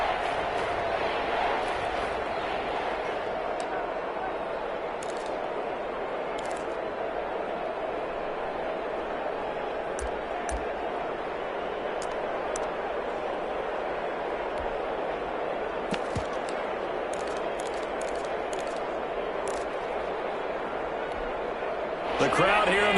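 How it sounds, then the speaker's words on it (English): Loud, steady roar of a stadium crowd inside the Dome during an Eagles vs Saints NFL football game, a dense continuous wash of cheering and noise with commentary voices running over it. "The crowd here in the Dome making things difficult."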